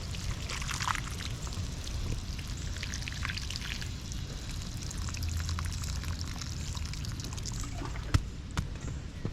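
Water pours steadily onto garden soil around freshly planted summer garden plants, a continuous splashing trickle lasting several seconds with a couple of sharp knocks near the end and no talk.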